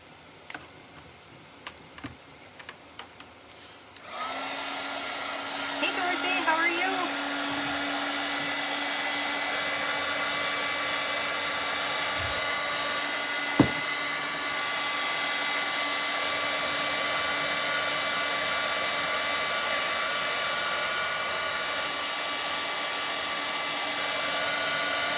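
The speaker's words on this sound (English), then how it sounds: "I'm gonna hit this with the dryer real quick" Handheld dryer blowing to dry glue on a St. Patrick's Day gnome craft piece, a steady broadband whoosh with a faint hum that starts after a few seconds of quiet handling and runs continuously to the end.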